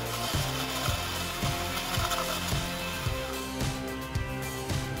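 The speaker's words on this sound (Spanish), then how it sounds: "Y a continuación procedemos a moler" Kitchen blender grinding ice for a kiwi daiquiri, a steady mechanical whir with a regular rattling, ratchet-like pulse running throughout at close range, with no talk.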